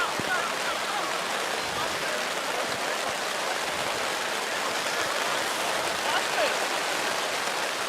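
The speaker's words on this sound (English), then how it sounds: "you can hear that sound coming through of the rain" Steady rain hiss falls across a Burnside rugby union field during an Onkaparinga match, a dense broadband wash that runs without a break through the clip while a commentator talks over it.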